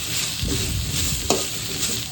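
Curry leaves, onion and garlic sizzle steadily in a pan as a spoon stirs through them, a few scraping strokes and one sharp clink standing out over the continuous frying hiss.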